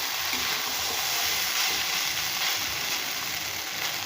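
Rice frying in a pan with potato, chili and onion gives a steady, close hiss of sizzling oil that runs unbroken throughout, with no voices over it.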